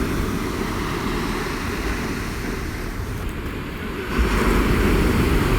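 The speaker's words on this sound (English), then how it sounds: "the wind's just started to get up a bit" Wind blows steadily across a beach, a constant roaring buffet against the microphone that swells louder near the end, with surf blending underneath and no talking.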